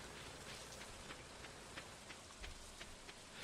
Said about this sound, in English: back to the rain.